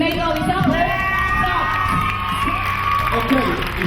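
Crowd of theatre workers' audience cheering, whooping and shouting at an event, a loud continuous roar of voices with high whistles and yells close by.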